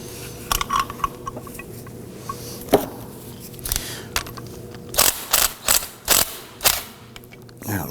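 A ratchet tightens the power steering pump bracket bolts on a 2005-2009 Subaru Legacy 2.5L H4. Scattered clicks come first, then a run of loud, close ratcheting bursts in a quick rhythm, with no talking.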